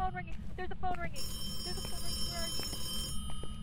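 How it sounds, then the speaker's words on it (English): Telephone ringing in the Phasmophobia video game, bursts of high electronic trilling amid a dense game soundscape, with players talking over it. "There's a phone ringing."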